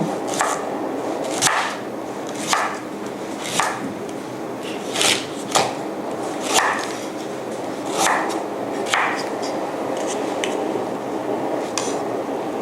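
Repeated knife chops on a cutting board as vegetables are sliced, crisp and close, coming at an irregular pace of about one per second, with no voices.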